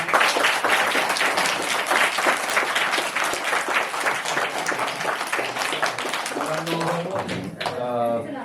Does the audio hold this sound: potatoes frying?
no